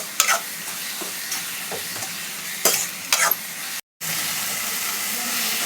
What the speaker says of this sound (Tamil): 2 ஸ்பூனு இஞ்சி பூண்டு பேஸ்ட், நல்லா இஞ்சி பூண்டு வாடை போகிற அளவுக்கு வதக்கணும்.